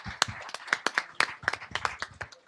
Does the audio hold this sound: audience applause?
yes